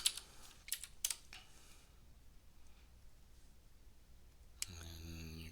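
Someone typing on a computer keyboard into a search field: a few quick clicks and keystrokes at the start, then quiet room tone, and a brief tonal sound at the end.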